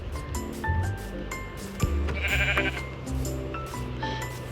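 Sheep in the Minecraft video game bleat repeatedly and fairly loudly over soft game music, with several overlapping calls and a brief thump midway.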